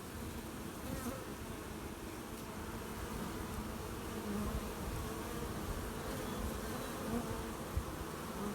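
Honey bees buzz steadily around a hive entrance during a drought-ending nectar flow, a dense, continuous drone from many insects close by, with no talk over it.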